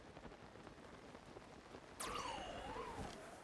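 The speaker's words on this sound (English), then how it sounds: "Oh, it's raining!" Rain in Zelda: Tears of the Kingdom begins abruptly partway through, a steady hiss of falling rain with a gliding game tone over it, after a stretch of quiet background.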